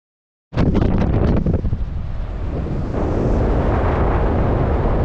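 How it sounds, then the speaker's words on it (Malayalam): Strong wind on the Pamban rail bridge buffeting the microphone in a loud, continuous roar that starts abruptly and keeps rushing without letup. "ഭയങ്കര കാറ്റാണ് ഇതിൻ്റെ മേളിൽ നിൽക്കുമ്പോൾ, ഭയങ്കര കാറ്റ്"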